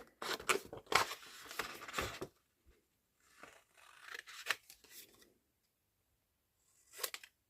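Scissors snipping through paper to cut out a small label for a botanical junk-journal folio, a cluster of quick close crisp cuts, then a few softer separate snips after pauses, with no talk.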